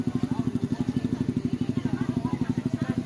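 Motorcycles ridden by crowds of weekend riders at the Agas-Agas Bridge in Sogod, Southern Leyte, with a steady pulsing engine putter close by and continuous across the whole stretch.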